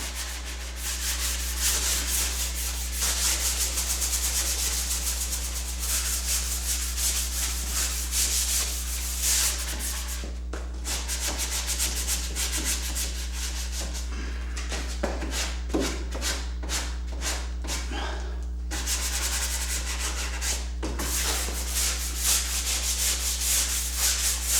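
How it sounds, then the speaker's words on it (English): A sanding sponge rubs back and forth across wood in steady, scratchy strokes, close up, over a constant low electrical hum. "Just have the sanding sponge."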